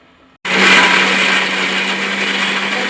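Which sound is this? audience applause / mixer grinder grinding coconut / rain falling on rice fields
mixer grinder grinding coconut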